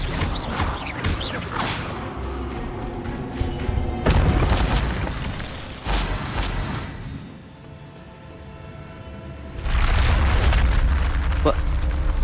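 Expelliarmus spell cast in the Hogwarts Legacy video game, loud booming bursts at about 4 and 10 seconds over a rumbling mechanical bed, with a voice speaking over parts of it.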